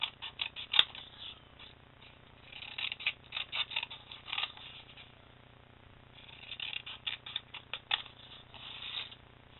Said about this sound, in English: So I cut out each of my 4 faces.